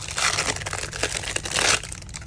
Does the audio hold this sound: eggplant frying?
no